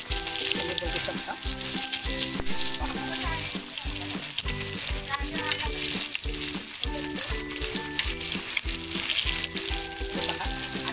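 Halwa fish (pomfret) pieces fry in a hot pan with a steady, dense sizzle and popping oil, close and continuous, with background music throughout.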